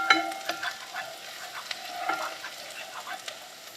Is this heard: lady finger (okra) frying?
yes